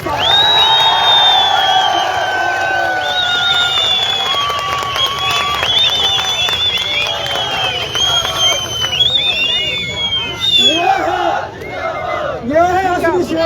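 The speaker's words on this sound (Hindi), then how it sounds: "इस शेरनी के लिए जोरदार तालियों के साथ" A loud crowd at a rally on Parade Ground, Dehradun, cheering and whooping with shrill shouts and scattered applause, the noise sustained and dense across the whole stretch.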